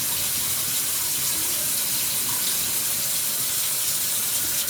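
Tap water runs steadily into a pot of rice for soaking, giving an even, continuous hissing pour throughout at moderate loudness, with no voices.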